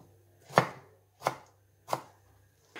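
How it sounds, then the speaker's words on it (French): A knife cuts potatoes into small cubes on a board, giving four crisp, separate chops spaced about two-thirds of a second apart, close and clean with no talking. "je détaille mes pommes de terre en petits cubes"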